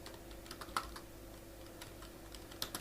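Quiet, close keystrokes tap out a short note on a computer keyboard at a desk, with an irregular rhythm and a couple of sharper clicks over a faint hum.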